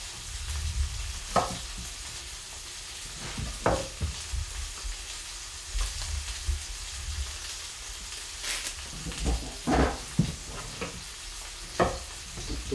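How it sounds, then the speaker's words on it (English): Steak cooking in a griddle pan, a constant close sizzle broken by repeated sharp spits and crackles, with no one talking over it. "So while the steak's cooking"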